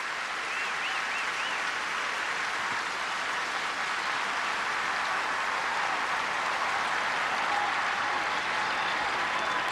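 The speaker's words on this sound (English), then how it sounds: "he's going to get a giant round of applause" A sellout stadium crowd in Auburn, Alabama applauds an injured sophomore linebacker during a 2013 Auburn versus Ole Miss football game; a broad, distant wash of clapping and crowd noise continues unbroken throughout.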